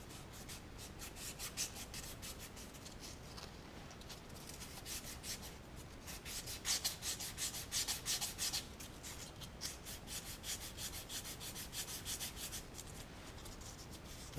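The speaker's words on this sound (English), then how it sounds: "I'm just gonna hit this lightly with some sandpaper just to try to clean that up" The motor shaft of a PM727 milling machine gets a light rubbing with 320-grit sandpaper, heard up close as rapid, rhythmic scratchy back-and-forth strokes that keep going throughout, briefly louder midway.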